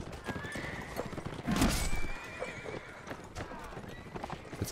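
Horses gallop with rapid clip-clop hoofbeats and let out a loud whinny midway in a Mount and Blade Warband battle, with combat noise around them and someone talking over it.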